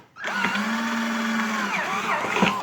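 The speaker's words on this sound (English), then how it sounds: "And we're just going to drill a hole through here." A power drill whines steadily up close, its pitch holding, then dipping and wavering near the end as it bores through a plastic bucket.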